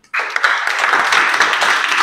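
A group of schoolchildren claps together after an abrupt start, producing dense, loud, sustained applause that carries on evenly to the end.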